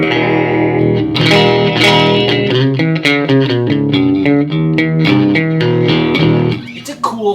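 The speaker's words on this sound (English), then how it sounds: "That thin out of phase sound can work well in a recording." A 1969 Fender Custom electric guitar on an out-of-phase, split-coil pickup setting plays a steady run of notes and chords with a thin, nasal, hollow tone, processed with some effects, loud and close throughout.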